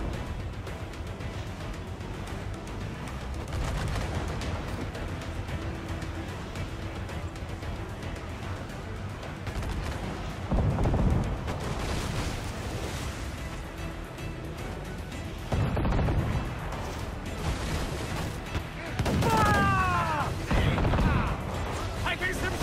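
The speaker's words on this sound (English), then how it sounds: "Damn that Captain Vane! He's unloading everything he has! He'll sink it if he's not careful" Ship cannons firing during a naval battle in the Assassin's Creed 4 Black Flag video game, several heavy booming blasts rising over a constant rumble of sea and ship noise, with game voices speaking in between.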